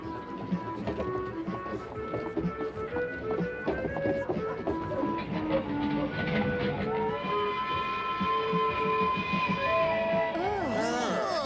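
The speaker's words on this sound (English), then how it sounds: "The train is traveling up above us" An elevated train above Broadway in New York rumbles and clatters overhead, loud and steady, with squealing metallic screeches and rising whines as it passes by.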